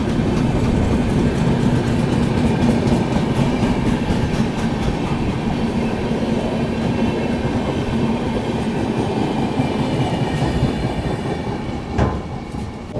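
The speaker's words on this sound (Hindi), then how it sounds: "ये अभी चंडीगढ़ मदुरई एक्सप्रेस क्रॉस हो रही है बगल से" The Chandigarh–Madurai Express passing close alongside on the neighbouring track, a continuous loud rumble of wheels and carriages with rhythmic clatter that holds steady before easing off at the end.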